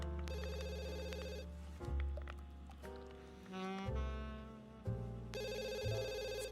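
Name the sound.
telephone ringing in The Sims 3 video game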